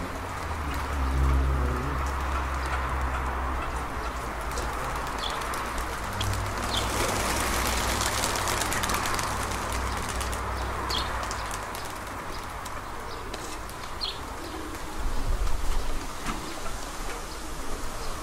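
At a pigeon loft, soft cooing and fluttering pigeon sounds mingle with a steady background hiss, faint and continuous, with a brief louder patch near the end.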